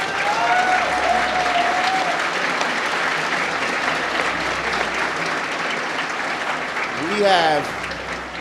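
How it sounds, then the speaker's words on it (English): Sustained applause from a crowd at a speedrun charity event fills the whole stretch, steady and dense, with a brief voice rising near the end. "So everyone, give Oats and Goats a round of applause."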